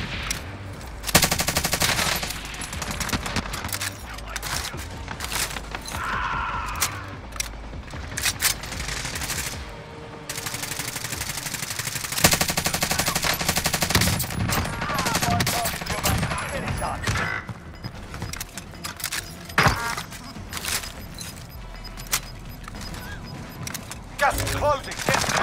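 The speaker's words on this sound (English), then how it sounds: "Taking fire here." Gunfire in the video game Warzone on Rebirth Island, rapid bursts and scattered single shots from near and far spread across a busy battle soundscape with intermittent game voice lines.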